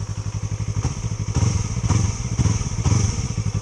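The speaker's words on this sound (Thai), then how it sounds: "อันนี้เป็นท่อเดิมอยู่ก็ก็ลั่นโอเคนะ" A Yamaha R3 motorcycle with its stock exhaust pipe and an aftermarket tip, idling close by in a rapid, lumpy, throbbing pulse, with the engine blipped several times to louder surges.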